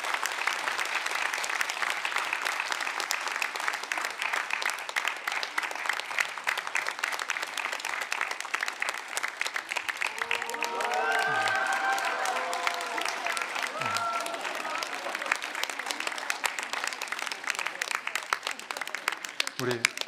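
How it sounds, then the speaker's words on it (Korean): Sustained applause from a large church congregation during a Sunday service fills the room, steady and dense for the full length, with a voice briefly breaking through midway. "여러분 뜨겁게 좀 박수로 격려했으면 좋겠습니다."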